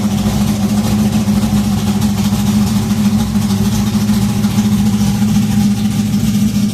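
A car engine fitted with an Accusump oil system, started cold after stalling in gear, runs at a steady low idle with a constant rumble and hum, close and loud, with no talk.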